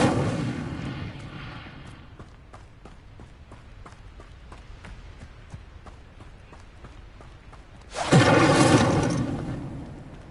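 A fiery spell bursts in a Hogwarts Legacy game scene, with a loud whooshing blast at the start, a string of light footstep-like taps in the middle, and a second loud roaring burst near the end.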